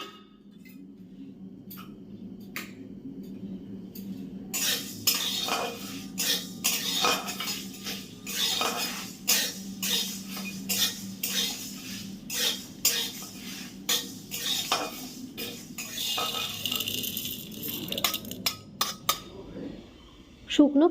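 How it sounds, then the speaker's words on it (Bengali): Coriander, fennel and three large dried red chillies dry-roast in an oil-free pan for a jujube pickle. After a low steady hum, a spatula scrapes and clinks against the pan in quick, uneven strokes, close and fairly loud. "এবার এইগুলোকে শুকনো খোলায় ভেজে নেব।"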